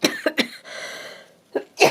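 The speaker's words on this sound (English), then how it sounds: "Sorry, I'm still coughing." Several sharp coughs from one person nearby, a quick cluster at the start and two more after a short pause.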